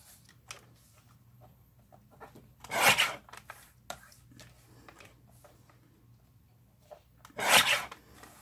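Card stock for note cards is cut down to size, two distinct close rasping slices standing out over faint handling noises and a low background hum.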